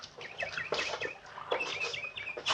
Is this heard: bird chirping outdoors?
yes